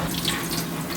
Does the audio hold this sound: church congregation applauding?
no